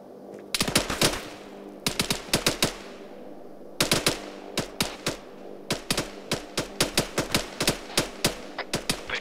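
Rapid bursts of machine gun fire in the Arma 3 video game, clustered in repeated volleys of sharp, loud cracks with short pauses between, steady throughout with no voices.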